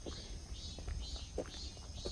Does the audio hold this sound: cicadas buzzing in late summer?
yes